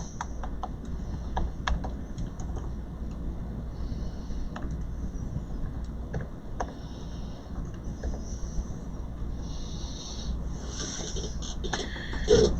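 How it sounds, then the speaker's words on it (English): Keys pressed across a MacBook Pro A1708 laptop keyboard, soft irregular clicks close to the mic over a steady background hum, no one speaking. "For a keyboard, I just open up Notepad, run through the keys."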